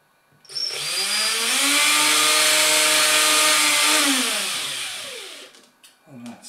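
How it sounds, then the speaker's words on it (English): Up close, a power drill bores into wood while fitting a guitar pickguard. It makes one loud sustained whir that ramps up, holds for about four seconds, then winds down, followed by brief handling noises. "Drill out your wood."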